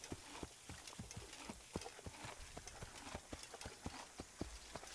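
Faint, rapid hoofbeats clop in a steady rhythm as a horse trots in the PC game Assassin's Creed, set against a soft, muffled background.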